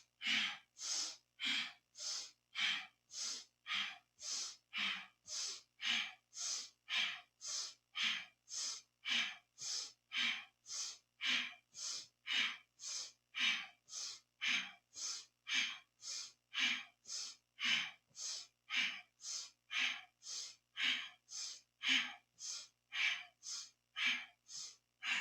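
Rhythmic breathing during a scissoring-legs Kundalini yoga exercise: about forty quick, forceful breaths in a steady, even pulse, close and moderately loud, with no talk.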